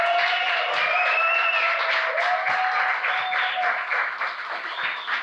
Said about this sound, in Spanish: les regalemos un aplauso para que los despidamos el día de hoy